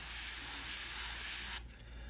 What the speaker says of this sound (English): I'm just going to spray back over that same spot right there.